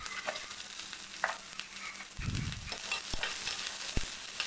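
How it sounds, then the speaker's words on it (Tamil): Capsicum and onion sauté in hot oil, with a steady close sizzle broken by scraping stirs and a couple of sharp ladle taps on the pan. A brief low thump sounds midway. No voices. "இது கொஞ்சம் வதங்கின பிறகு ஒரு ஆனியனையும் அதே மாதிரி கட் பண்ணி இதில் சேர்த்து வதக்கணும்."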